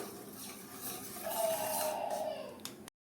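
A spoon scraping and stirring full-fat milk in a pot on a gas stove for carrot kheer, a steady soft swishing with a faint metallic ring.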